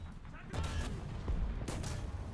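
Tank cannon shots in War Thunder, an enemy Panther firing in a tank battle: two heavy booming blasts about a second apart, the second sharper, over rumbling game noise.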